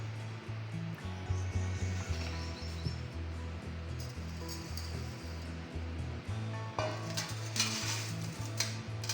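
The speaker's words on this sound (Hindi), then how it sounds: "इतना गरम किया है कि लहसुन फ्राई होके ऊपर आ गया है।" Garlic frying in hot oil in a pan for mango pickle, a continuous crackling sizzle throughout with occasional stirring, a low repeating hum underneath and brighter bursts of spattering near the end, heard up close without talking.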